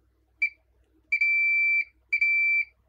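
A multimeter in diode mode beeps as its probe touches the pins of inductors on a circuit board: three clear, high electronic tones, first a quick short chirp, then two longer sustained beeps, alone in a quiet room.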